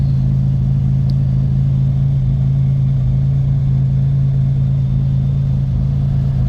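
Ricketts Racing's Brutus race car sits running on a freezing day, its engine holding a loud, steady low rumble with no change in pitch, alone without voices.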